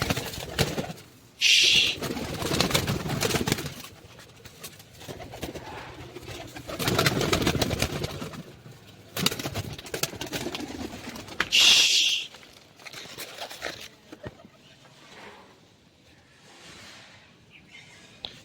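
Pigeons in a loft coo in low, throaty bursts that come and go, with a few sharp wing flaps or squeaks mixed in, then fade toward the end.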